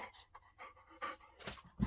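A big dog pants in quick, soft, breathy bursts inside a motorhome, close by and fairly quiet.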